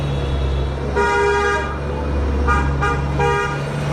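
A car horn sounds three times from a nearby vehicle, one longer honk followed by two shorter ones, over a low idling engine and road noise at night.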